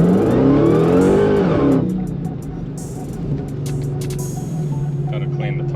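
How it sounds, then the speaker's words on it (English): A Jeep Trackhawk on a gravel driveway revs hard as its tires spin, a loud rising engine roar that drops off into a lower idle rumble with scattered gravel clatter; a voice is heard over it. "Gotta clean the tires off a little bit."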